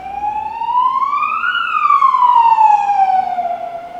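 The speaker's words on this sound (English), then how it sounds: "you'll have to excuse the siren." An emergency vehicle siren wails loudly in a continuous tone that sweeps up and then slowly falls as the vehicle passes close by, with no other sound competing.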